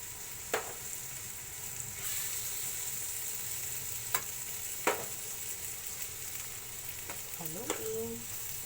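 Spaghetti sauce sizzles softly in a frying pan, a quiet, steady frying hiss broken by a few isolated clicks and scrapes from the stirring utensil, with no talking.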